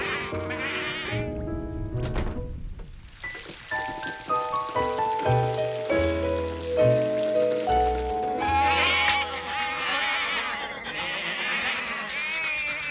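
Sheep bleat over a busy musical backdrop, with repeated calls standing out among melodic tones and a patter like rain toward the end.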